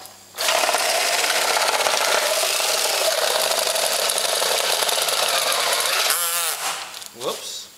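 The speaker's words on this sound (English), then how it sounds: "And we just drill a hole in the bale." A drill bores a hole into a hay bale for a hay sample test, a loud steady close grinding whir lasting about six seconds before stopping abruptly, followed by brief rustling.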